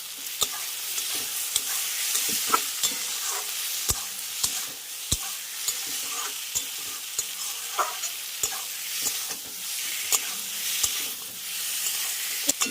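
Rohu fish curry with fried potatoes and Malabar spinach stems being sautéed in a pan, with steady frying sizzle and repeated sharp scrapes and clicks of a stirring spatula throughout, no talking.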